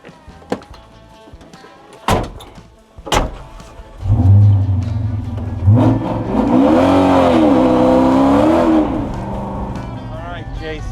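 A GT500-swapped Ford F100 hot rod truck revs hard and drifts, its engine roaring loud and sustained after a few sharp bangs, with people talking nearby at the start.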